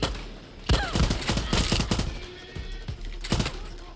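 Gunfire from a gun in Far Cry 6: rapid bursts of sharp, loud shots with strong echoing booms, firing in several clusters across four seconds with brief pauses between.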